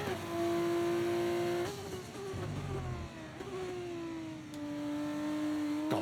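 A Formula race car engine in a racing video game holds a loud, steady high whine that drops abruptly as the driver shifts, then climbs and sags again through the gears. The tone stays continuous and close, with a brief low rumble near the middle.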